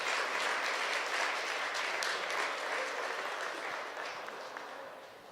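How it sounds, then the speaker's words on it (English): Applause from the audience at a fire station ceremony for the swearing-in of a new fire chief, a dense and steady clapping that fades gradually toward the end with no talking over it. "Give yourself a round of applause."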